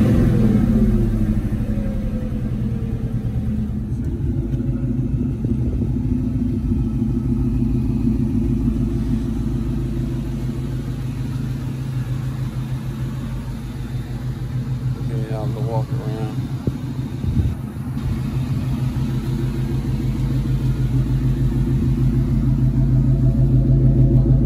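Ford Mustang GT V8 on a cold start, a steady low rumbling idle with brief blips of throttle, close and loud, while someone talks over it.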